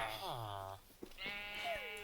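Two drawn-out Minecraft sheep bleats, one early and one later, each wavering and fairly loud, with a brief soft thump between them.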